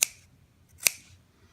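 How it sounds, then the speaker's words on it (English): Two sharp snips of dull scissors cutting fabric, about a second apart, close and crisp, each fading quickly into near silence. "Scissors are getting dull."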